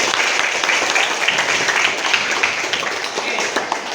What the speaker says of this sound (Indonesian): Kasih tepuk tangan dulu di rumah.